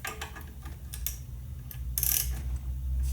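Proform connecting rod vise being tightened on a connecting rod, a series of close metallic clicks and ratcheting ticks in irregular bursts.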